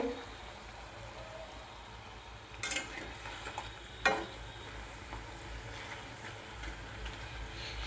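A metal spatula scrapes and knocks against a pan while papri fries in hot oil, with two sharp clanks standing out over a steady low sizzle.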